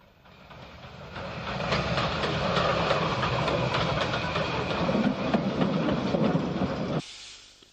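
An LMS-designed 8F steam goods locomotive rolls past close by, its rumble swelling with rhythmic clatter and hiss, then cutting off abruptly near the end.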